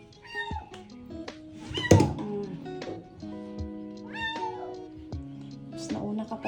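A cat meows repeatedly while being given a warm-water bath with shampoo, its cries rising and falling in several separate bursts, with a knock partway through and people talking nearby.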